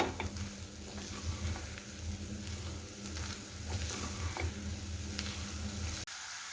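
Coconut laddu mixture with country sugar stirred in a pan, a steady close scraping and soft sizzling that continues evenly before cutting off abruptly near the end.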